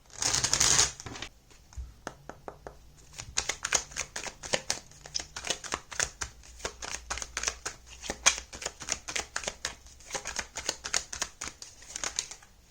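Continuous rapid riffling and flicking of tarot cards, close and crisp, with dense clustered snaps and brief pauses throughout.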